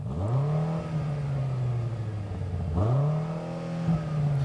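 A BMW M8 engine revs twice against the soft limiter, each blip climbing sharply, then easing back to a rough idle rumble between pushes.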